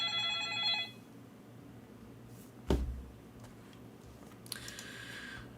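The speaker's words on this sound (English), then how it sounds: "Oh, my phone's ringing." A mobile phone rings in a quiet room, a short electronic ringtone burst at the start and another near the end, with a dull thump in between.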